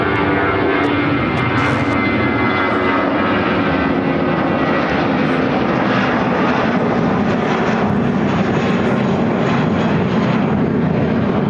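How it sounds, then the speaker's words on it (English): Airbus A319 jet engines roar steadily during takeoff at Chicago O'Hare, a loud, broad continuous rumble holding through the whole stretch, with no talk. "Airlines 2100 taking off to Dallas Fort Worth on the A319."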